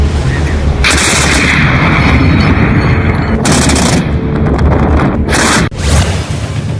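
A ZU-23 23 mm anti-aircraft gun fires, heavy automatic gunfire pounding loudly and continuously in long bursts, with brief breaks between volleys.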